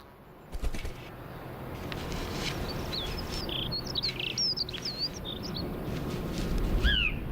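Wild birds call from trees, several short chirps and sweeping whistled notes scattered over steady outdoor background noise, moderately distant and fairly faint, with no talk.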